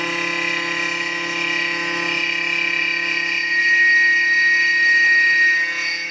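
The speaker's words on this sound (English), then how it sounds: "the cutter rotates rapidly to cut the material" A K2 vertical knee mill in a machine shop, its cutter spinning and cutting material with a steady, loud tonal whine and hum that holds evenly throughout, swelling slightly toward the end, with no talk.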